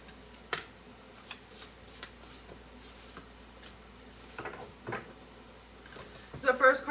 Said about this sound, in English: So now let's pull out 3 oracle cards.